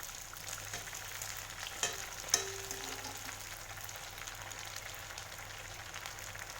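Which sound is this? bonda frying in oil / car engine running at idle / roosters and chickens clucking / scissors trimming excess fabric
bonda frying in oil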